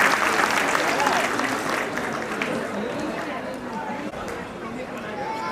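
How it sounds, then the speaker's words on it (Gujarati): An audience at a cultural program breaks into dense, sustained applause for the donors, loudest at first and then easing slightly, with crowd murmur mixed underneath. "આપણે ફરીથી તાળીઓ વગાડીશું સર્વે દાતાઓ માટે"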